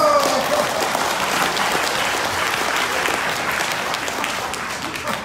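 An audience at a hotel banquet-hall gathering of retired missionary couples claps steadily and densely for several seconds after a lecture, the sustained applause filling the room.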